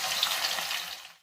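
Chopped onions dropped into hot oil in a kadhai, giving a sudden loud hiss and crackle that fades quickly over about a second, close up and with no talk.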